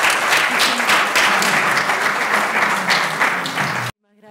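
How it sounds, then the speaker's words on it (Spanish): Lecture-hall audience applauding after a talk, dense continuous clapping from many hands that stops abruptly near the end, leaving a brief murmur of voices. "Un aplauso para él."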